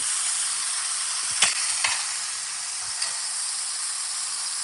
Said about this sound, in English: Sear both sides, not cook. Sear it.